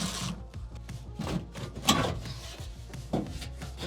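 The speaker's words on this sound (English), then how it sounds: "I might as well start removing the side panels" Interior side panels are pried and pulled from a 1969 Ford Mustang, giving scattered scraping, rubbing and soft knocking of trim against metal, with one sharper click near the middle and another thud toward the end, close and fairly quiet.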